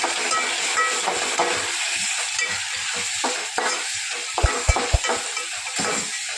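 Spices stir into masala frying in a pan: continuous close sizzling with scraping strokes of a spoon and a few sharp clinks against the pan near the end.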